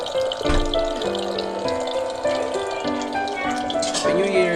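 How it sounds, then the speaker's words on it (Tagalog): An automatic water tap runs in a continuous splashing stream, close by. Voices and tonal background sounds layer over the flow. "Automatic yung tubig niya na rito"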